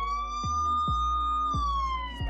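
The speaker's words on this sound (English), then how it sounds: "so you can swipe here to play the siren." A shrill electronic SOS siren from a smartwatch wails continuously, its pitch sweeping up and down in a steady cycle, thin and tinny from the small speaker.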